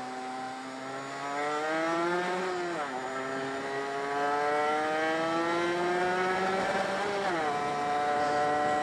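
A motorcycle engine labours in cold weather, droning steadily at close range with harmonic tones that dip and recover twice, as if bogging down and catching again. No one speaks over it.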